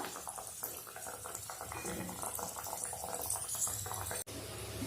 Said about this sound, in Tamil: இதே மாதிரி மீதி இருக்கிற எல்லாமே நாம் எண்ணெயில் போட்டு எடுத்துடலாம்